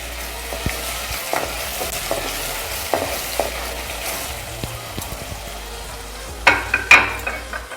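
Chicken and onions fry in a pan for Pallipalayam chicken, a steady close sizzle broken by scraping stirs and a few louder clacks of the spoon near the end.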